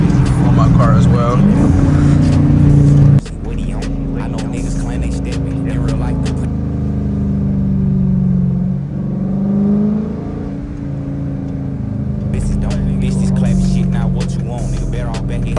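A Dodge Challenger R/T with the 345 engine revs and pulls along early-morning back roads, its engine swelling and easing as someone talks loudly over the rumble.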